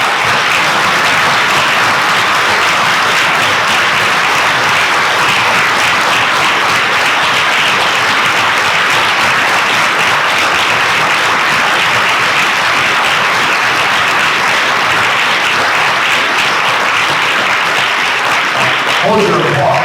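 Loud, sustained applause from a luncheon audience, dense even clapping filling the whole stretch without pause.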